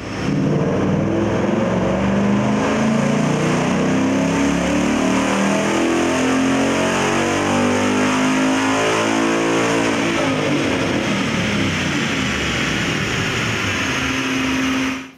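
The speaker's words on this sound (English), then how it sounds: "strap our 2015 GT to our dyno and see what it can make in stock trim." A stock 2015 Ford Mustang GT V8 with factory calibration runs hard on a dyno, a loud, sustained engine roar rising steadily over about fifteen seconds, close and continuous before cutting off abruptly.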